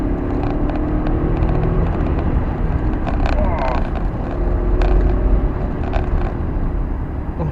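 A BMW F10 550i twin-turbo V8 at full throttle gives a heavy, steady in-cabin roar with a rising tone, loud and close, while a voice talks over it.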